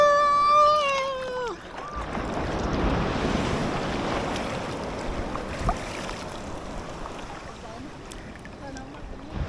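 Ocean waves breaking on a beach at Morong, Bataan, a broad rushing wash that builds and lingers with wind buffeting the microphone, after a brief whoop of a voice at the start.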